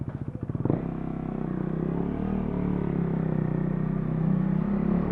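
A motorcycle fitted with a new DID chain and RYNO sprocket idles close by. A few quick clattering pulses at the start settle into a smooth, steady engine drone with nothing else heard over it.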